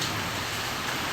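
Heavy rain pours steadily onto a flooded street in Imus, Cavite during Typhoon Kristine, a dense, unbroken hiss with no pauses and no voices.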